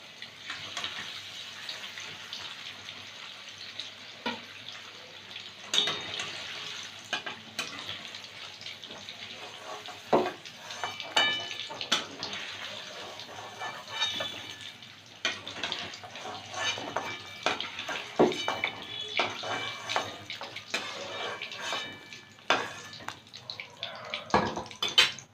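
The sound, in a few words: fried paneer placed into a bowl of hot water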